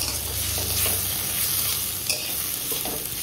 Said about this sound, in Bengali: এবার আমি এর মধ্যে টমেটোটা দিয়ে নেব। তো টমেটো দিয়েও আমি আবার ভালো করে একটু ভাজা ভাজা করে নেব।